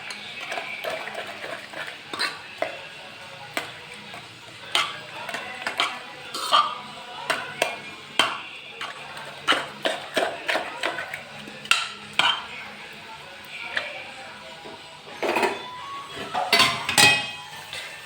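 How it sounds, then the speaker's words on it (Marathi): Moringa leaf vegetable dish being stirred in a metal pan with a spoon, giving repeated clinks and scrapes of utensil against metal at an uneven pace, fairly close and loud, with no talking. "तोपर्यंत ही भाजी फिटून घेऊ"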